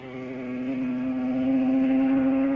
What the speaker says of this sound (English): And that is the sound of Joey Dunlop's Yamaha as he squirts it away from the bungalow on the last lap.